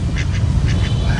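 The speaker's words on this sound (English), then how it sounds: "Oh, we've got a runaway duck." A duck quacks on a busy street in Hanoi, several quick nasal quacks in short bursts over loud, rumbling background noise.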